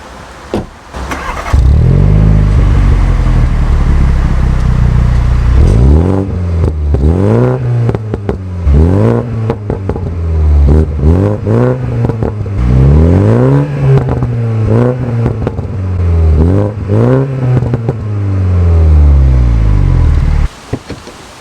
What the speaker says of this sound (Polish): dźwięk samego silnika, taki odczuwalny w środku, taki średni